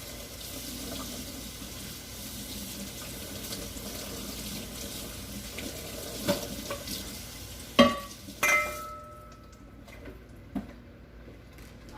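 Water runs from a kitchen tap into a pan in a steady soft stream, with a few clinks and knocks of pans near the end.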